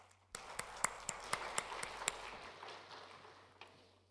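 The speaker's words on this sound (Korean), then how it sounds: "힘찬 격려와 사랑의 박수로 맞도록 하겠습니다" Sparse, uneven hand claps ring out from a church congregation welcoming the preacher at a Wednesday worship service, a dozen or so sharp strikes over a low steady hum that thin out and fade.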